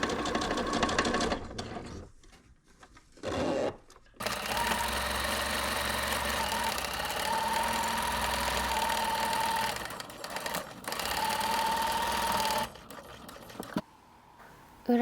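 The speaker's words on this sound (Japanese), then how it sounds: "表布に中表に合わせてから上から5ミリぐらいを縫って" Sewing machine stitching along the top edge of outer fabric for a small gingham-check pouch: a steady, close whirring run broken by brief pauses and restarts, with short bursts near the start and end.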